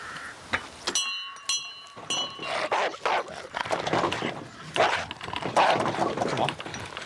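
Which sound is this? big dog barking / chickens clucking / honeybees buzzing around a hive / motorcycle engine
big dog barking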